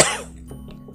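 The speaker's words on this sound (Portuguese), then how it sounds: "Nossa, que tosse." A single sharp cough bursts out close and loud, then trails off into a quiet room with faint background hum.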